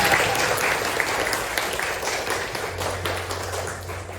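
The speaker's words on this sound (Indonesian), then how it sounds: "beri tepuk tangan buat Mbak Hamidah" A classroom of students claps for a classmate after a Quran recitation, a close, steady burst of applause that slowly tapers toward the end.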